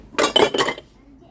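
Three quick metallic clinks of pots and lids knocking together in an outlet store, bright and close, then quiet.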